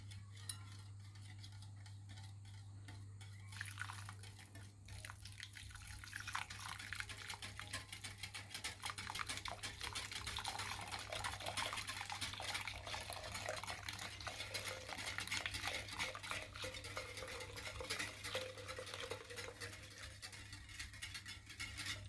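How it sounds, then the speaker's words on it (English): Egg yolks are beaten in a bowl while a buttermilk mixture streams in for vanilla custard donut batter, giving a continuous, fairly quiet scraping and whisking patter over a low steady hum. "now to this we're gently going to stream in our buttermilk mixture"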